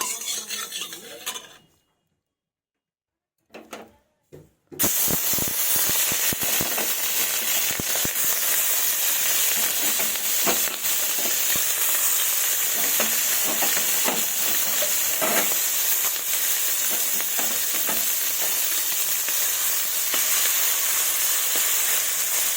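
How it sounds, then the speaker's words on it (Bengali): Small fish dropped into hot mustard oil in a wok set off a loud, continuous sizzle after a brief quiet start, with occasional utensil clinks and scrapes. "এবার মাছগুলো ভেজে নেব।"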